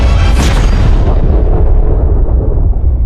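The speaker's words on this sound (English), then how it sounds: "We happen to be on Endor when the second Death Star explodes" The second Death Star exploding over Endor in a Star Wars trailer, a single massive, very loud blast with deep booming low end that slowly rolls off and fades over a few seconds, with no voices.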